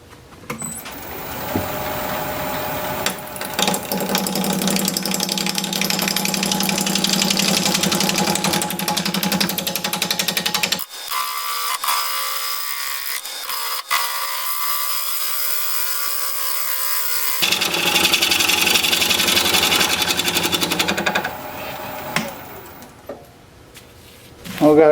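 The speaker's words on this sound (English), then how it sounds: "We're going to be turning at 680 RPM, 5/8 inch bowl gouge" Olive wood bowl spinning on a wood lathe at 680 RPM while a 5/8 inch bowl gouge cuts it, a steady droning hum with a rough scraping whine that cuts out midway, then resumes before fading.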